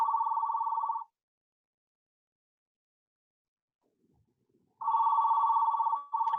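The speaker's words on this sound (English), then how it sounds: "that phone is ringing" A telephone rings in an online class meeting: a steady electronic trill for about a second, a gap of silence, then the ring starting again clearly and loudly.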